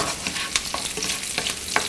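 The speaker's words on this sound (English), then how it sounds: "already those veggies are really sizzling up nicely" Vegetables sizzling in a stir-fry pan, a dense close crackle of frying with sharp scraping stirs popping out every half second or so.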